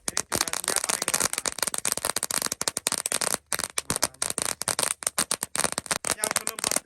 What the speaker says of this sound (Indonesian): Selanjutnya kita nyalakan mercon air mancur pretek terbesar.